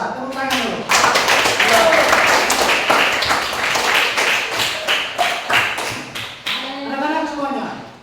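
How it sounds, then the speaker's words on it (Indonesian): Schoolchildren in a classroom clap together in a quick, loud burst of sharp, closely spaced claps lasting several seconds, with brief voices heard at the start and end. "Tepuk tangan dulu."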